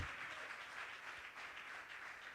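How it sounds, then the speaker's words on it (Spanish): A church congregation applauds steadily, a dense even wash of clapping that stays faint and continuous without a break. "Alguien tiene que aplaudirle más fuerte a Dios."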